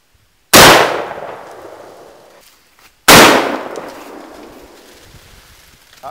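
Two loud, close Mosin rifle shots, each a sharp crack followed by a long decaying echo across open snowy farmland, spaced about two and a half seconds apart.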